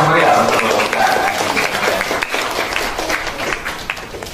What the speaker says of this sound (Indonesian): Beri aplaus yang